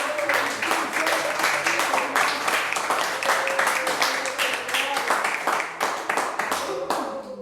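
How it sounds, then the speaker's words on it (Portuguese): A church congregation claps together in a fast, steady rhythm that is loud and continuous, with a faint voice or singing underneath. "Vamos dar uma salva de palmas para esse Deus"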